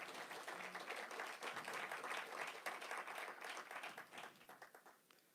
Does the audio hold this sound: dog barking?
no